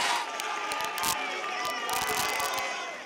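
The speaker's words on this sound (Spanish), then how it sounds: "Aplausos y emoción en las tribunas y las pifias de sus detractores." Crowd noise from the public galleries of the Chilean Senate after a vote, a continuous roar of cheering, shouting and clapping with scattered whistles, loud and sustained for the whole moment.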